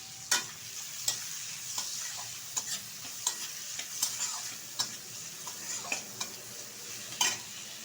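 Water spinach with shrimp and chopped onion fries in a pan, a soft steady sizzle punctuated by repeated sharp scrapes and taps of a spatula stirring, close and fairly quiet.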